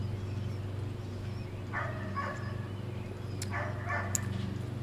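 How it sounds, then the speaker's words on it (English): A dog gives a few soft, distant yips and barks in the background of a room where sherry is being tasted, set against a steady low hum, without talking. "I think that dog in the background wants some of my sherry"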